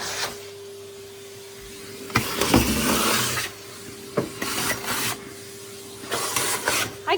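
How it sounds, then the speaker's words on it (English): A vacuum cleaner working across the top of a cupboard to lift breadcrumbs from its grooves, a low motor hum under repeated loud rasping bursts as the nozzle sweeps back and forth. "Vacuuming the top of my cupboard."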